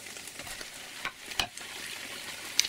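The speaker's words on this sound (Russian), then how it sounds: "Смешиваю, размешиваю." Barilla bolognese pasta sauce stirred in a pan, a soft continuous scraping sizzle with a few sharper utensil clicks against the pan.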